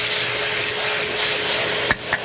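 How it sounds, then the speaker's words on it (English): A vacuum cleaner sucks debris from the edge of a lawn mower air filter with a steady, loud whooshing roar and a couple of brief scraping knocks near the end. "I'm just going to take the vacuum and run it along the edge like that"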